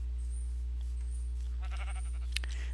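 Sheep in the game Minecraft give a short bleat, faint and at a middle distance over a steady low background hum, with no talking.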